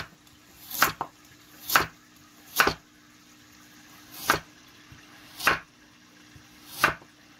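Knife on a cutting board slicing carrot into thin julienne strips for cucumber kimchi: six crisp, evenly spaced chops, close and clear against a quiet room.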